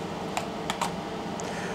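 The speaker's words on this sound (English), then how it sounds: "That's the sound of the film coming off of the film take-up spool" Film slips off the take-up spool as a Nikon FM2 camera is rewound, giving a few quiet, sharp clicks spaced apart over a low steady hiss.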